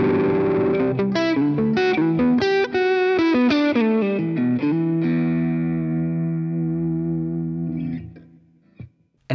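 Distorted electric guitar through a modeled Orange stack amp on a BOSS GX-100: a quick run of picked chords and notes, then a sustained chord ringing out and slowly fading before a final small click.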